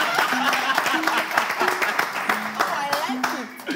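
A crowd claps and cheers loudly and continuously, with voices calling out over the dense applause.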